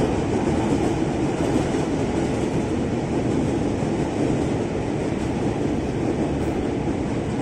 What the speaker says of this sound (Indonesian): Papasan nih kita sama JR East 205,